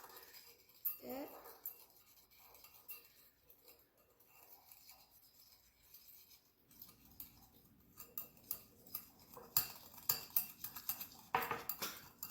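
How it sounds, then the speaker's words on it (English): A whisk or fork clinks and scrapes against a bowl while cookie ingredients, including cinnamon and sugar, are mixed together; scattered soft taps give way to quicker, busier clicking in the second half, all fairly quiet. "Now you're going to want to whisk this together"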